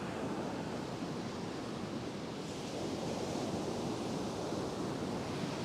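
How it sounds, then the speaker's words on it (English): Steady surf roar from ocean waves breaking on a fishing beach, a continuous close wash of noise with some wind on the microphone and no talk. "the waves keep getting higher all the time"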